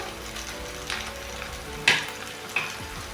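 Papaya chicken with salt frying in a pan, a soft continuous sizzle broken by a few sharp scraping stir strokes, fairly quiet and close, with no talking.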